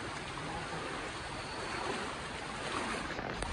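Floodwater rushes past near a bridge in Chiplun, making a broad, steady roar of flowing water. The sound is continuous and fairly faint, with a muffled rumble like wind beneath it.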